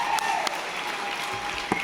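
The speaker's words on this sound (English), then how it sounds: "give her a round of applause" At a 2019 awards ceremony, an audience gives a round of applause, a moderately faint, steady patter of clapping with a few sharper claps standing out.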